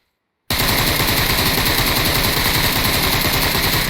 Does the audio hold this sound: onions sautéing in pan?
no